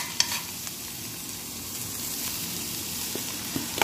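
Rice with ground beef, onion and green beans sizzles and stirs in a single pot, a steady close frying hiss with faint scraping, no talking.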